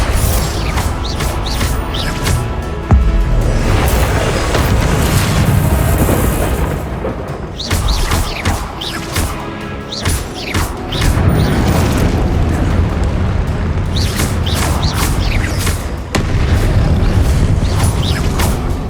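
Confringo blast spells in Hogwarts Legacy set off loud, dense, rumbling explosions one after another, with crashing debris and a heavy low-end roar that barely lets up.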